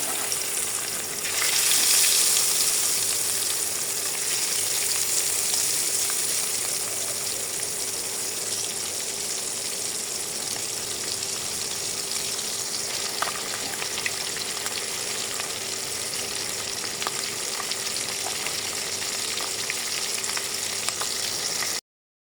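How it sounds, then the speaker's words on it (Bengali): Fish sizzles steadily in hot oil with turmeric in a wok for village-style fish with greens, a continuous frying crackle with occasional pops and no talk. "এরপরে এর ভিতরে মাছগুলোকে ভেজে নেব।"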